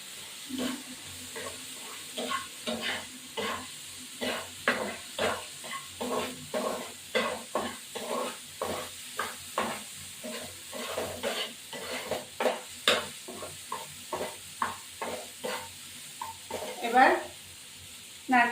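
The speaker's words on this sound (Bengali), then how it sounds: "এবারে এই মশলাটাকে ভাজা ভাজা হবে" Spice paste for a prawn malai curry frying in a pan, a soft steady sizzle broken by a regular rhythm of spatula scrapes and stirs, close and fairly quiet throughout.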